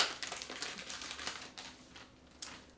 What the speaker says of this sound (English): So let's just take the packaging off this.